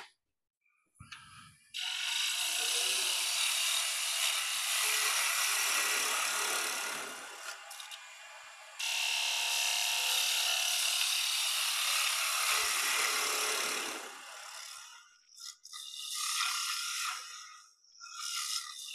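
A gouge cutting into wood spinning on a lathe, a loud, close, sustained scraping hiss in long passes that pause briefly and resume, with short gaps near the end.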